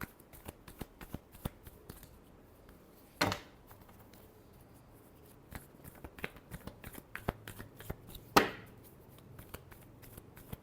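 Tarot cards shuffled during a Scorpio reading, heard as sparse light clicks and taps with two louder riffling bursts, quiet and close, no talking.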